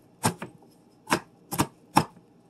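An onion being chopped with a knife on a cutting board: four or five crisp, close thuds in an uneven rhythm, with no talking.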